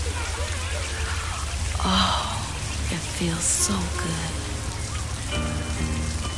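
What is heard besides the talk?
rain falling, sound effect in a song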